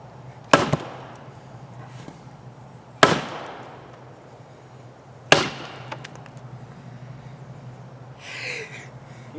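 An axe chopping wood, three sharp, loud strikes spaced a couple of seconds apart, each with a short ringing decay, and a faint breathy sound near the end.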